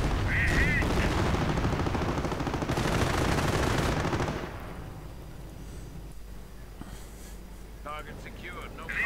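Sustained machine gun fire from a Panther tank in a World War II strategy game, a dense rapid burst for about four seconds that then drops away into quieter battle ambience, with a voice talking over it.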